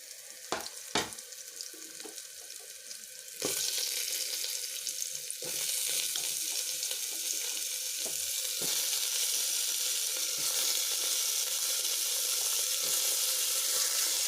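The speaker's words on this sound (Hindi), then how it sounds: "बस इसमें अब कटहल डाल देना है।" Cut jackfruit pieces dropped into hot oil in a pan for a jackfruit and potato curry, with a few sharp clinks before a loud, steady sizzle and hiss rises and continues close up, no voices.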